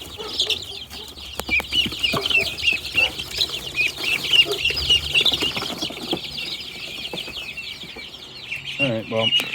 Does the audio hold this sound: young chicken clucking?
yes